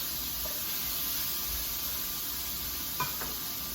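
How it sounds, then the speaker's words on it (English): Salmon cooking in a skillet gives a soft, steady sizzle and hiss, fairly faint and close, with one brief clink near the end and no talking. "we're gonna take our smaller piece of salmon here, and we're gonna set that down in our skillet. Let that baby cook."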